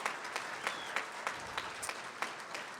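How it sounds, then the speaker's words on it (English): An audience at the Wake Forest Sports Hall of Fame induction ceremony applauds steadily, a broad, even wash of many hands clapping in a large hall, moderately distant and continuous throughout. "let's give our mom a round of applause"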